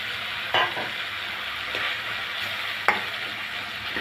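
Chopped tomato goes into frying masala with a constant close sizzle, marked by two sharp clacks of a spatula against the pan and a softer stir between them.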